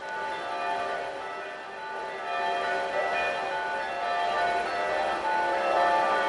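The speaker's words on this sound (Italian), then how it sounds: "Le campane di Aveacco." Church bells of Aveacco ring on and on in the evening in a dense, overlapping wash of tones, heard from a distance in a quiet outdoor garden setting.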